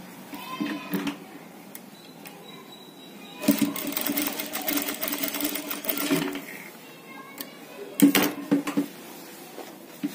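Sewing machine stitching a sleeve with finishing, heard in short bursts of rapid mechanical whirring separated by quiet pauses, a longer run in the middle and a brief one near the end.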